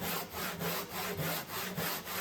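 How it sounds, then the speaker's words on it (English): Handsaw cutting through a wooden 2x4 in steady back-and-forth strokes, about eight rasping passes in two seconds, close and loud, with no voices. "how long it takes to cut a 2x4 with a handsaw"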